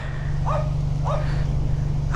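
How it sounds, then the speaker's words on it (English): A dog at a car meet gives two short barks, spaced about half a second apart and heard at moderate distance over a steady low engine hum. "Dude, that's a mean looking dog."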